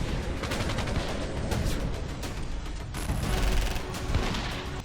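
Rapid gunfire rattles in dense bursts during a gunfight between security forces and militants in Jammu and Kashmir, sounding at middle distance and fairly muffled, with no speech.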